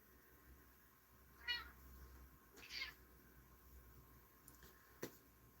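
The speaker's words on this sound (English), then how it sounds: "Cat's coming in to say hi to you guys." A cat gives two faint, short meows indoors, spaced about a second apart against a quiet room hiss, followed by a soft click.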